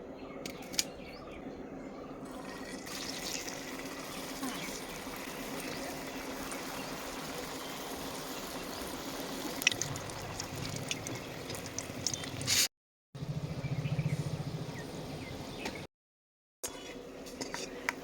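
Sweet potato rosbora sizzling in hot oil over a wood fire, a steady, dense crackle and bubbling that runs close and continuous throughout, with brief gaps near the end.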